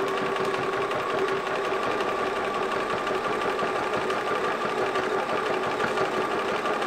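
Bernina 1030 sewing machine stitching a stretch stitch, a steady continuous mechanical whir with even rhythmic needle chatter throughout, close and alone.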